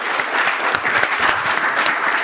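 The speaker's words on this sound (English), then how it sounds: "A round of applause to our participants." A room of attendees at a 3D printing panel discussion gives the panel participants a round of applause. Individual sharp claps stand out within a full, steady clapping crowd.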